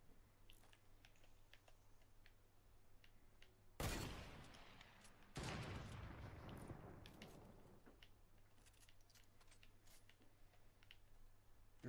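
Gunfire from a trio battle royale video game, heard as a dense burst of rapid shots for about four seconds midway, loud against a quiet background with scattered faint clicks and a steady low hum.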